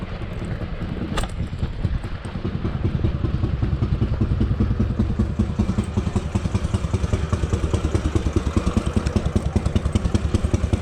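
A motorcycle engine putters at idle with a fast, even throbbing rhythm, close and fairly loud, settling into a steady beat after a brief rev.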